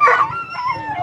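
Hunting dog at a Spanish driven hunt in Los Prados, Albacete, giving a loud howling bark that trails into whining yelps, close by, with no talk.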